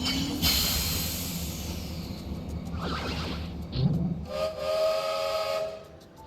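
A steam train whistle in the video game World of Final Fantasy gives a loud, sustained hiss and tone over a rumbling background, with a second whistle blast near the end.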